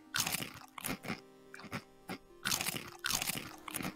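Crisp potato chip crunches, prerecorded as a series of loud, close bites that come in quick bursts with short pauses between, with no talking.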